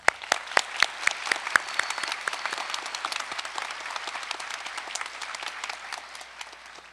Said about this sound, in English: Let's take another moment to show our appreciation with a round of applause for both speakers.